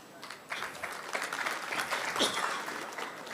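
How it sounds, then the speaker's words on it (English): A crowd at an alumni meet applauds, steady clapping from many hands sustained for a few seconds, moderately distant with a faint voice mixed in. "A big round of applause to all of them, please."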